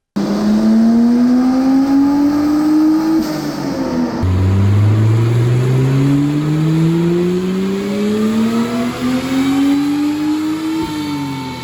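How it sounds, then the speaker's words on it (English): Turbocharged Mercedes 3.2-litre M104 straight-six running on a dyno in fourth gear, loud and close, its note climbing steadily through a long pull, dropping at a shift, then rising again to a cutoff. "The next run we did in fourth gear to hopefully get some more traction on the dyno and therefore making a bit more power."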